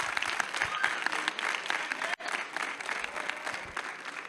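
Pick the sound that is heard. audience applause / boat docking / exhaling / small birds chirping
audience applause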